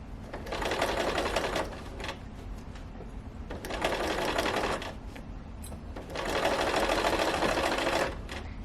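A sewing machine back-stitches the corner of a sofa slipcover in three steady, whirring runs separated by short pauses. The sound is close and evenly loud.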